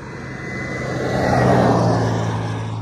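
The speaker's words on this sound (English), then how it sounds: "if the wind isn't that bad, you'll be able to hear some of the two-stroke" A 2023 KTM 300 EXC TPI two-stroke dirt bike engine drones past, rising in loudness toward the middle and easing off, its note partly muddied by wind rumble.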